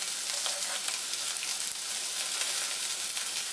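Chopped onion and sliced green chilies frying in a little oil in a kadhai, a dense, steady sizzle with small crackling pops throughout.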